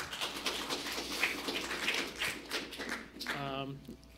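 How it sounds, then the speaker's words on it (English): Brief, fairly faint applause from an audience at a city council meeting, a soft scattered patter of clapping that fades as a voice begins speaking near the end. "we got to keep the applause real quick"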